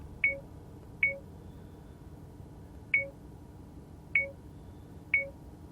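Five short, sharp electronic alert beeps from a Pelsee P12 rear-view mirror dash cam at irregular intervals over a low, steady background hum, each one clear and close.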